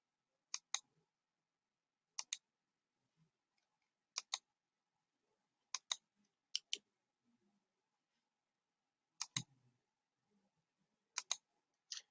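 Computer mouse clicking, sharp paired double clicks repeated at irregular intervals about once or twice a second, quiet and isolated over near silence.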